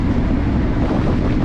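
Loud, steady wind rushing past while riding a vintage bike downhill at speed in a full tuck, a dense broadband roar with no break.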